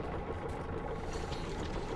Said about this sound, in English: Is that our boat engine?